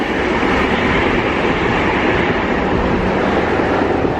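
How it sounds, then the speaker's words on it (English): A tram rumbles past close by in Budapest, a loud steady roar of wheels on rails filling the whole stretch. "Wait for the tram to go past so you can hear me."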